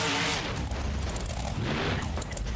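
Monster truck Tail Gator lands on and crushes a row of cars in BeamNG Monster Jam, a dense, loud, continuous roar of engine and crunching metal with no clear pauses.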